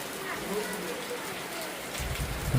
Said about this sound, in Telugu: సన్నగా వర్షం పడుతూనే ఉంది, సన్నగా ఏం బాగానే పడుతున్నది